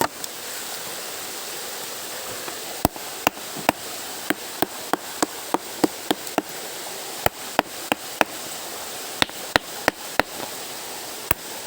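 A hard rock strikes a large stone beside a creek, giving a long series of sharp, irregular cracking knocks over the steady rush of flowing water.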